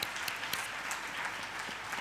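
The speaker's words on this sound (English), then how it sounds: "Another round of applause," A crowd at a University of KwaZulu-Natal campus safety event applauds in a brief, steady wash of many hands clapping together.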